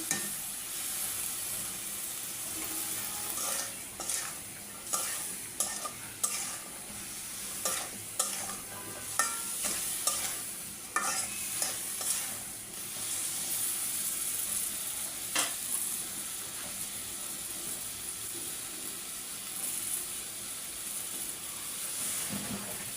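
Young bottle gourd and beans stir-frying in a hot pan, a steady hiss of sizzling broken by repeated scraping strokes of the spatula.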